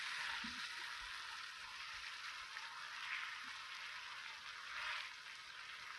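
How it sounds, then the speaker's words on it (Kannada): Eggs frying in a pan for roadside egg rice, a soft steady sizzle heard close, faint, with a few small clinks of utensils. "ಮೊಟ್ಟೆ ಉದ್ರಾಗಿ ಬರಬೇಕು, ಅಲ್ಲಿವರೆಗೂ ನೀವು ಚೆನ್ನಾಗಿ ಫ್ರೈ ಮಾಡ್ಕೊಳ್ಬೇಕು"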